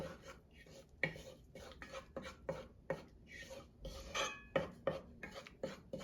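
Flour being mixed in a pan for sarma, quiet close scraping and tapping of a utensil against the pan in uneven strokes, with sharp clinks between softer rubbing sounds.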